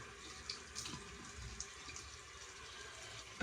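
Water runs steadily from a tap, a continuous close hiss with a few faint clinks and splashes, no voices.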